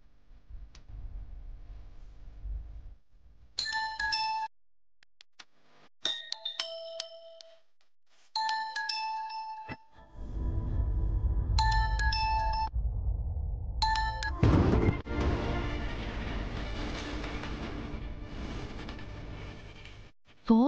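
A mobile phone rings in short melodic bursts, ringtone phrases separated by brief pauses, and nobody answers. Later the phrases give way to broad background noise and movement.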